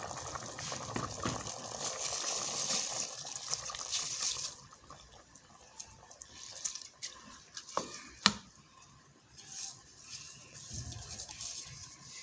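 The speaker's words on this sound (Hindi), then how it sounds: "ये अच्छी तरह बॉईल हो रहा है पानी" A pot of water boils hard with chana dal for Kabuli pulao, rice going in. Dense close bubbling and hissing at first, then a quieter simmer broken by a few sharp clinks.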